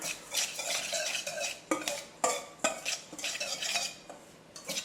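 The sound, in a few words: whisking almond flour and baking powder together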